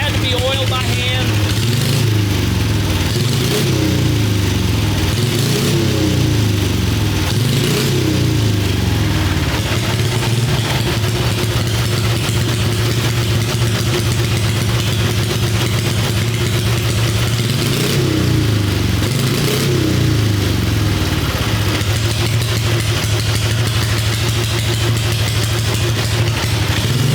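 Vintage Harley-Davidson Peashooter racing motorcycle with exposed pushrods, valves and rockers, its small engine running loud and close in a steady chugging idle with occasional revs, a voice talking over it.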